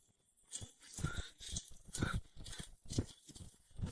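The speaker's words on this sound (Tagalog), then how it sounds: "Ang pulang kabayo ay mabilis na tumatakbo." A horse running fast produces a fairly faint, steady run of hoofbeats, thudding in an even rhythm of roughly two strikes per second over a quiet background.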